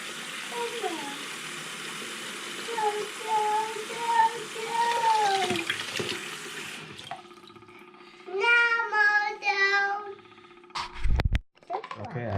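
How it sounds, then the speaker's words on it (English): Water running from a tap into a kitchen sink with a little soap, a steady gushing hiss for several seconds that stops, leaving faint drips and splashes, with someone speaking over it. "I filled up the sink with water, a little bit soap"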